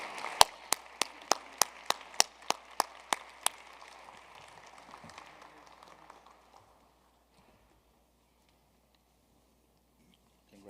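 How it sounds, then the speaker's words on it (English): Applause at a physician assistant white coat ceremony for an award recipient, starting with about ten sharp evenly spaced claps near the microphone over a softer crowd patter that fades out after six seconds, leaving near silence. "give him a warm round of applause for receiving the Miss Annie Brown Legacy Award"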